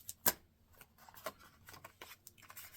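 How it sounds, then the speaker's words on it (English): Scissors snip off the excess paper edge of a hidden paper clip bookmark craft, one crisp close cut followed by softer paper rustles and light handling noises, no talk. "I'm just going to go ahead and cut off this extra on the edge"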